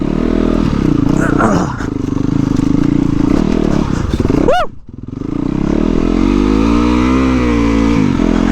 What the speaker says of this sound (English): I love this bike off-road, man.